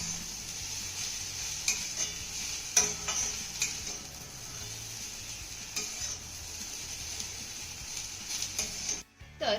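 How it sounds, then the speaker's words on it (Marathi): A spoon works chopped coriander through rice vermicelli upma in a pan, with soft scraping strokes and a few clinks over a faint, constant sizzle, quiet and close with no talking. "घातलेली कोथिंबीर चांगली मिक्स करून घ्यायची आहे."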